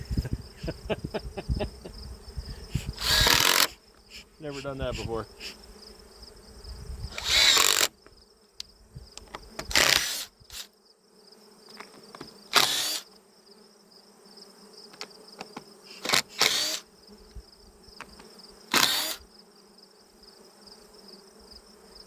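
Bees buzz steadily around an open-air hive being built with the colony already inside, a faint continuous drone broken by several loud, brief close passes and handling noises; someone speaks briefly.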